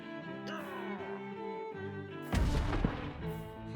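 Cannons fire in the Minecraft Create Aeronautics game: a broadband blast bursts over a busy layered game soundtrack and keeps rumbling for over a second, loud and close.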